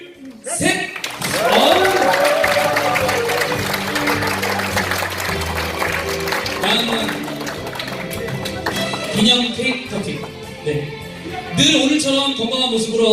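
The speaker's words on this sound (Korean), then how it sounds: "여러분들은 따뜻한 박수를 담아주시면 고맙겠습니다." Warm applause from a gathered crowd at a club's regular celebration meeting with candles being blown out, steady clapping that fills the room throughout, with voices and music mixed underneath.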